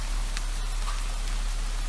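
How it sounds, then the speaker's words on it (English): Steady rain in a video game hisses evenly throughout, a soft continuous patter with a low hum underneath and no voices. "in the middle of your walk, it starts to rain"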